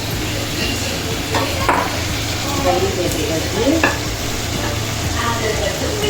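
Cooked mutton going into a pan of sautéed tomatoes for mutton gravy, with a steady close sizzle of frying and a few scrapes and knocks of stirring throughout, alone without talk.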